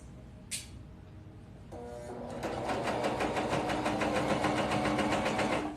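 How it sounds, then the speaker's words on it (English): A cover stitch machine runs along a knit fabric seam, starting with a few short bursts and then settling into a fast, steady mechanical chatter that builds and holds to the end. "I'm sewing with a cover stitch machine"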